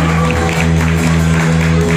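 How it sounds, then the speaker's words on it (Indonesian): Steady crowd applause fills the hall after a vote tally is read out at a children's Sunday school dance competition, loud and continuous with a droning hum underneath. "Berikan tepuk tangan sekali lagi."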